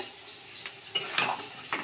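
A utensil scrapes and stirs fried prawns with spice paste in a pan, producing a few soft scraping and clinking strokes over a faint background.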